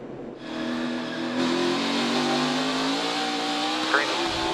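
NASCAR Xfinity Series race cars accelerating on a restart at Charlotte Motor Speedway, a loud, sustained roar of engines rising in pitch as the pack builds speed, with a higher whine sweeping past near the end.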